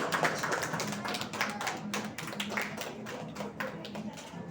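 An audience at the Israel Pavilion at Expo 2020 Dubai claps together, a fast, dense patter of many hands that keeps going evenly from start to finish.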